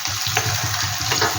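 Ground coconut paste sizzling in a hot pan for egg malai curry, a steady close hiss of frying with faint stirring clicks.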